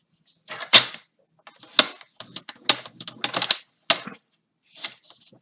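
A sheet of scrapbooking paper being given its first fold makes several crisp, close crackling bursts with brief silences between them, and nobody speaks.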